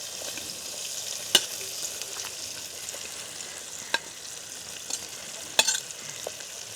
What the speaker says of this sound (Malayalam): അതിലേക്ക് തന്നെ നമ്മുടെ ഉള്ളി അരിഞ്ഞ് വെച്ചിട്ട് കൊടുക്കാം